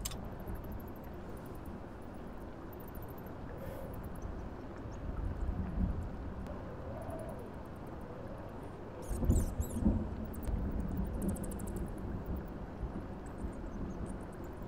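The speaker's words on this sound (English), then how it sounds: "Great. A storm." Stormy weather in the SpellForce 3 fantasy strategy game, a steady low rumble of wind with soft thunder swells, faint and distant, and a couple of brief crackling gusts midway.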